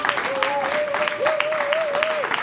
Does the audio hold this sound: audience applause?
yes